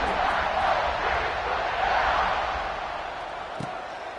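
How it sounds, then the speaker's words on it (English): A football stadium crowd buzzes with a loud, steady roar after a score, and the broad noise fades slightly toward the end. "this crowd is buzzing after that last score"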